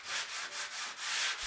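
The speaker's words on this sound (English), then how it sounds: "While I sanded the plaster" Hand sanding of plaster on a wooden beam, rhythmic back-and-forth rasping strokes, about five close, even passes with no talking.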